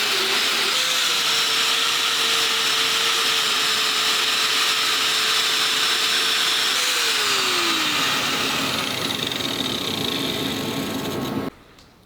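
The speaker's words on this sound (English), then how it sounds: "I'm using a wire attachment on a grinder to clean the surface" An angle grinder fitted with a wire wheel cleans the metal surface of a 9.75 axle from a 2004 Ford F-150. It gives a loud, close, sustained whine that shifts pitch partway through, then winds down and cuts off near the end.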